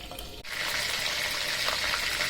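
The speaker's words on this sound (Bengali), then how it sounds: "মাছগুলো আমি কড়াইতে দিয়ে দিছি" Fish sizzling and crackling in hot oil in a wok, a steady close frying hiss that starts abruptly after a brief moment and continues without talk.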